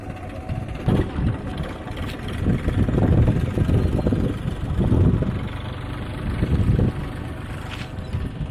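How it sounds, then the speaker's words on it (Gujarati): A low, rumbling tractor engine runs steadily nearby, its throb rising and falling, with wind buffeting the microphone. "ટ્રેક્ટર પણ ચાલે છે"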